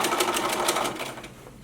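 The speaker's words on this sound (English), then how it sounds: "stitch about 1/8 of an inch from the seam line" A sewing machine runs a short burst of understitching along a lining seam, a fast steady mechanical whir that slows and fades toward the end, heard close and alone.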